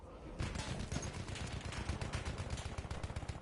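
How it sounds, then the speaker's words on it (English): Dense, rapid rifle gunfire from a General Liu rifle in a war video game, with shots overlapping continuously at a steady, loud level. "Just ass blasting dudes with the with the freaking General Lou rifle."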